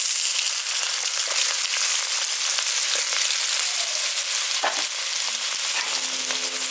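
Cut potatoes drop into hot oil already holding cumin seeds, dried red chillies and bay leaves, giving a loud, dense, continuous sizzle with scattered pops and crackles, up close and without voices.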